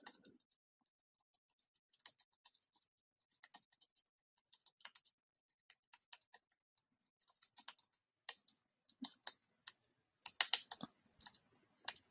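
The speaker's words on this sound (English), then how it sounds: "Now I'm just hitting my keyboard." Someone types on a computer keyboard while filling in contact and billing details, with quiet, irregular clicking keystrokes in short bursts and a denser flurry near the end, close by and alone.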